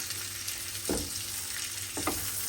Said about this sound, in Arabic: نخلط خيزو والفلفله والقريعه، تضامج مع بعضياتها مزيان